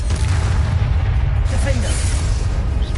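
Spell explosions from the Hogwarts Legacy video game form a dense, continuous booming rumble with heavy low-end, close and loud throughout, with a voice shouting in places.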